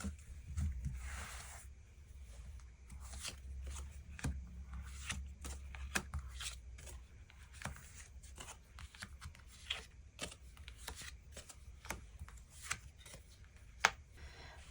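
Tarot cards are shuffled and drawn by hand, giving a quiet, steady run of soft riffling and sharp flicking snaps close by, with no talking.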